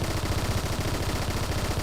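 Rapid automatic fire from the Phantom gun with a 30-round magazine in Roblox Bad Business, a dense, loud, continuous burst of shots alone.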